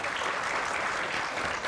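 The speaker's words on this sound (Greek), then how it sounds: "Τη Φέη, χειροκρότημα στη Φέη." Studio audience applauding for a guest on a Greek morning television show, a steady dense wash of clapping filling the short stretch at even loudness.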